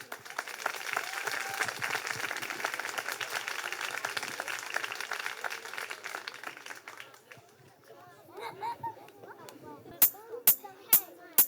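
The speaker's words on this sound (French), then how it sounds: "On l'applaudit fort." An audience applauds steadily as a young woman is invited onto the stage at a school Mother's Day celebration, the clapping dense for several seconds, then thinning into scattered claps with a few sharp, loud close ones near the end.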